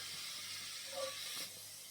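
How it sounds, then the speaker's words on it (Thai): Food is dry-roasted in an empty wok with no oil, giving a continuous close hiss of sizzling, with a brief stir or scrape partway through and no talking. "คั่วกระทะเปล่าๆนี่ กำลังคั่วอยู่นะครับ"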